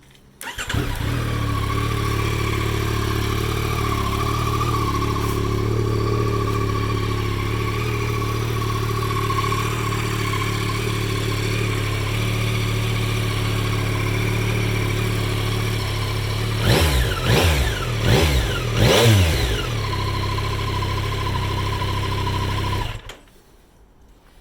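A Honda NC750X motorcycle engine idles steadily and close, then gets several quick sharp revs in a row before cutting off, with no talking.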